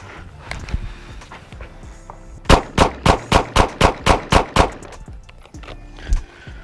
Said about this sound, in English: So I just put it center mass, pulled the trigger.